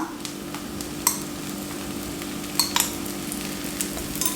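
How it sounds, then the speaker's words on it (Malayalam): Sesame oil hits a hot pan for a garlic cheese dosa, giving a steady low sizzle throughout with a few light clinks of utensils and stirring scrapes, close and fairly quiet. "കുറച്ച് നല്ലെണ്ണ ഒഴിച്ച് കൊടുക്കാം."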